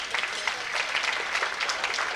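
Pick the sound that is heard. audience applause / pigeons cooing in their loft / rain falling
audience applause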